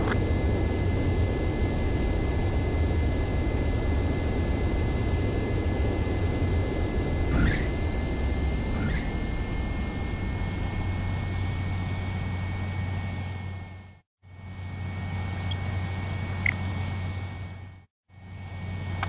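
Jet aircraft engine roaring steadily during a landing approach in the video game Ace Combat 7, a loud continuous drone that briefly cuts out twice near the end.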